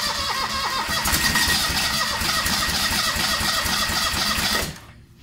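A John Deere 425 lawn tractor engine cranks and catches, running loud and steady with a busy mechanical clatter for several seconds before cutting off abruptly.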